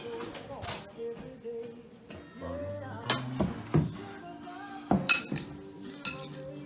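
A summer salad with asparagus or green beans being tossed, heard as irregular clinks of utensils against a bowl with sharp clanks and rustling, close by, while people talk intermittently.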